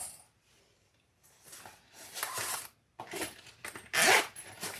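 A zipper on a sewn shoulder bag pocket is pulled in several short rasping strokes, close and quiet, with brief pauses between pulls.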